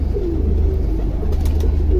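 Jaldar pigeon, a broad-chested male, cooing in low repeated murmurs over a steady low background hum, close and moderately loud.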